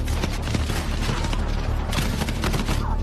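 Battlefield video game gunfire crackles in dense, rapid bursts, loud and close, with shots running together almost without a break.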